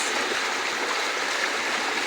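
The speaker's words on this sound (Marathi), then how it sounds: "रात्रभर आमच्या इकडे फुल पाऊस झालेला आहे तर बघू शकता आमच्या नालीला पाणी आलेले आहे" Rainwater rushes steadily through a farm field drain after an overnight downpour, a continuous close-up gush and gurgle with no voices.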